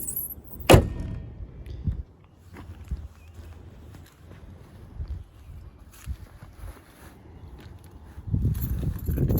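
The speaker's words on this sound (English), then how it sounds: "So I'm going to go ahead and close the hood here." The hood of a 2002-2005 Ford Thunderbird shuts with one sharp, loud slam near the start, followed by quiet shuffling and handling noises.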